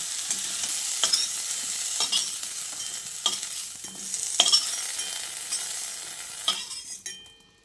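Snake gourd pieces fry in mustard oil in a wok with a soft steady sizzle, punctuated by several sharp metal spatula scrapes and clinks against the pan, close and fading at the end.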